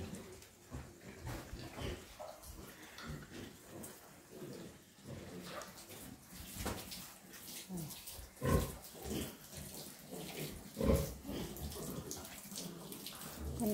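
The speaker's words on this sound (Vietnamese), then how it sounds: "Bạn đến thăm khu lợn nái của nhà bạn nông dân nhé." Sows in a pen on a Vietnamese family farm grunt and shuffle at moderate distance, with splashing water and scattered knocks mixed in, the activity irregular and fairly quiet throughout.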